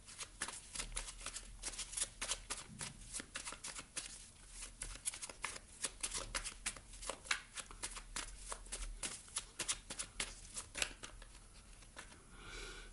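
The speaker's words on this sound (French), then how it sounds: "Je vais vous tirer une dernière carte du petit oracle de la mission de vie" Oracle cards shuffled by hand, a long run of quick crisp riffling flicks in uneven bursts, close and fairly quiet, with no talking.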